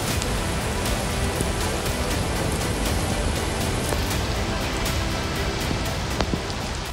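Heavy rain pours down steadily over Delhi, a dense continuous hiss of drops striking surfaces, loud and close throughout with no voices.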